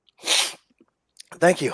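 One loud sneeze sounds up close and is followed a moment later by a brief spoken reply from a person at a tabletop game session.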